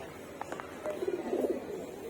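Pigeons in a loft give a few soft, low coos, quiet and slightly distant, with a brief run of gurgling coos in the middle.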